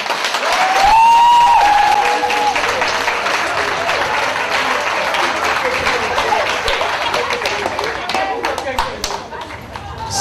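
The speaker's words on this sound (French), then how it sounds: "je vais vous demander, s'il vous plaît, d'applaudir très fort pour toutes les femmes du monde" A hall audience applauds loudly and continuously for all the women of the world on International Women's Day, with cheering and chatter mixed in before the clapping gradually thins.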